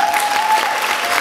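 Dense, steady applause from a theater audience at a KVN anniversary comedy show, filling the whole moment with continuous clapping and no pauses.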